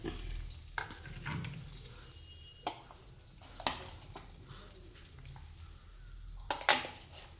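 Prawn curry masala paste fries in oil while a spoon stirs and scrapes the pan, a low, steady sizzle broken by several sharp clinks, faint and close.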